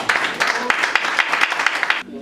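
A church congregation breaks into applause during a sermon, with a short, loud burst of many hands clapping in quick uneven rhythm that stops abruptly after about two seconds.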